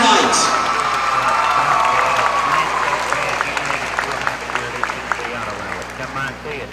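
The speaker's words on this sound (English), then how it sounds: "One more round of applause for all your seniors here tonight for senior night." Applause and scattered cheers from a high school basketball crowd honoring seniors on senior night, a dense, sustained wash of clapping in a gym under an announcer's voice, slowly fading toward the end.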